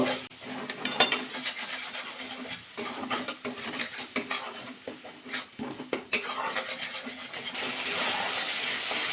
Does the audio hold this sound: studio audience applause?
no